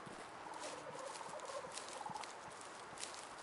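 Wild turkeys gobbling in the hunting video game Way of the Hunter, warbling calls faint and distant against steady outdoor wind and ambient noise.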